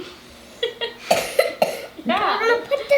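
A child coughs several times in short bursts during a homeschool science activity, mixed with brief talking and a bit of laughter close to the microphone.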